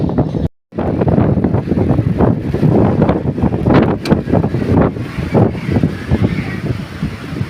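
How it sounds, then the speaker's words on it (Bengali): Loud, continuous roar of strong wind and heavy rain in a storm, heard from a room as rain blows in through the window, gusting and buffeting close to the microphone, with one brief dropout near the start. "প্রচণ্ড বৃষ্টি এসে গেছে, প্রচণ্ড হাওয়া দিচ্ছে, ঝড় উঠেছে।"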